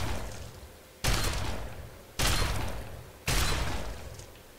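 A shotgun in the Fallout video game fires three loud blasts about a second apart, each with a sharp attack and a long fading tail.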